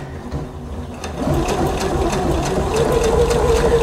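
A sewing machine seams a dress along the center back, working upward from the hem. It starts softly, then settles into a steady, close whirring run with rapid stitch pulses and no talking.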